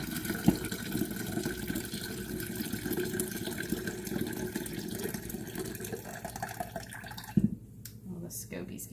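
Homemade kombucha tea is poured in a kitchen, with a continuous trickling stream and a few splashes and drips, a person talking over the pouring.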